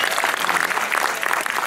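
An audience at the Miss Noord Holland 2012 beauty pageant claps steadily, a brief even burst of applause from a full room.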